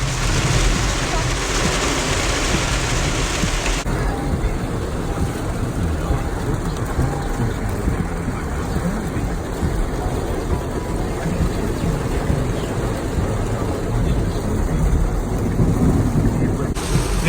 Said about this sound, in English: This is probably one of the worst storms that I have seen in probably the past 10 years. It is almost like a faucet outside.